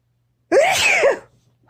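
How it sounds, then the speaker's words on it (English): A single loud, close, unrestrained woman's sneeze bursts out and trails off within about a second, with near-silence before and after. "I don't sneeze dainty either"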